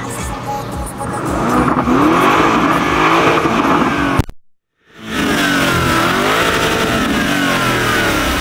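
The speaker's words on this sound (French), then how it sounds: "Mais là, en neutre et accélère un peu." A car engine revs in neutral with loud, close, rising and falling bursts. A sudden brief silence cuts in, then revving resumes at full strength.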